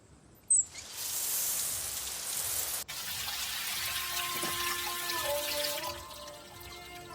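Water pours steadily from a shower in a village, a constant hissing spray after a sharp knock at the start, with faint tonal ringing toward the end; no talk.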